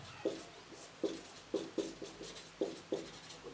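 A pen scratches across paper in a quiet room, with about seven short rhythmic strokes that are soft and close.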